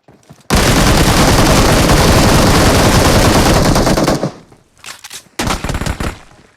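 Continuous rapid automatic gunfire from the video game PUBG, loud and dense for several seconds, then tapering off into a few separate bursts of shots.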